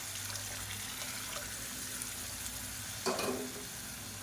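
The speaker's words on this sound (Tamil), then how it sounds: "இப்போ தண்ணி சேர்த்துக்கலாம்." Water splashes into a hot pan of sambar with a short, sharp burst of sizzle, faint and close over a steady background frying hiss.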